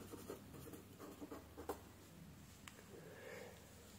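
A pen writes on paper in short, faint scratching strokes, with a few brief bursts and pauses, quiet and close.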